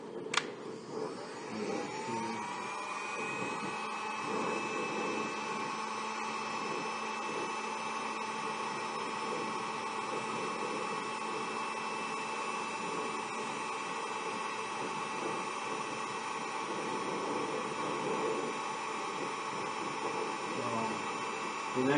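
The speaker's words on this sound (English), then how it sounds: "Can you turn on that blow dryer, please?" A blow dryer runs continuously in a materials lab during a cast hardening test, a steady loud whooshing roar with motor hum that starts abruptly and holds without change throughout.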